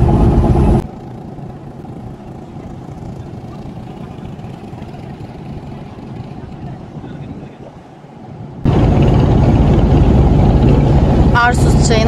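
A tour boat engine drones steadily amid rushing wind and water noise off Arsuz, Hatay, Turkey, growing louder and rougher toward the end.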